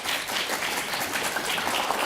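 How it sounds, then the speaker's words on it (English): Conference audience applauding a speaker's introduction, a steady wash of clapping at moderate level with no talk, filling the short stretch evenly. "Please give a round of applause."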